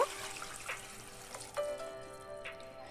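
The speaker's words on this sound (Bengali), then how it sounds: "পরিমাণ মতো জল দিয়ে দেব" Water is poured into a pot of ghugni (spiced dried-pea curry) in a home kitchen: a soft, fairly faint splash and trickle running for a few seconds, close by, with no voices.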